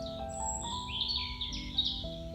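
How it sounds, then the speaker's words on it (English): Birds sing in spring woods in the morning around a hammock camp, with high, bright chirps and warbling phrases at moderate distance over a steady low background drone. "The birds have gently coaxed me awake this morning"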